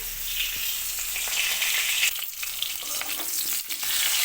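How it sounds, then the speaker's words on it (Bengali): Thick sliced potatoes fry in mustard oil in a pan, a loud close hissing sizzle with occasional stirring scrapes and clicks, steady throughout with no one speaking. "আলু কেটে নিয়েছি ভেজে নিচ্ছি রান্নার জন্য এখানে সর্ষের তেল দিয়ে দিয়েছি"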